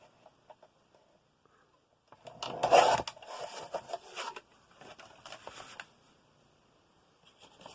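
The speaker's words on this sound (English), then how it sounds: "I'm going to trim off the end panel on that end score line." Paper panel trimmed along an end score line for a magazine-style memory book, giving a short burst of dry cutting and scraping rustle up close, followed by a few softer rustles and light taps.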